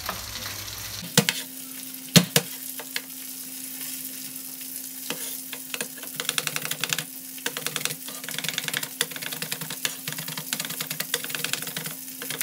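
Onions and garlic sizzle steadily in a hot pan, with scattered clicks and scrapes of stirring throughout.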